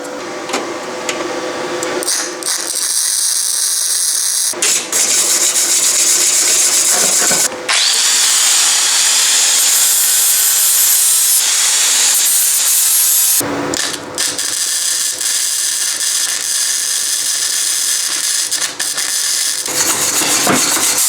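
Welding torch tacking both sides of a part from a Craftsman 5/24 track snow thrower, a loud harsh continuous crackling hiss broken by a few brief pauses, very close and with no talk.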